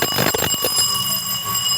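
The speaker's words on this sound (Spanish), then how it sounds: "Enciende la campanilla del deshielo." A Radiant no-frost refrigerator's defrost bell rings continuously at close range, a steady bright electric ringing that holds without pause and with no voices.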